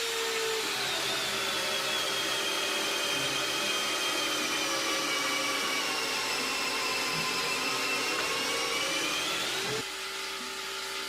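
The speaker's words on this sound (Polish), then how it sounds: "Wiercenie otworu 32 mm wiertłem Irwin Blue Groove." Ryobi R18PDBL cordless drill boring a 32 mm hole with an Irwin Blue Groove bit, a loud, steady high whine that holds for about ten seconds before the motor cuts off, leaving a short quiet hum.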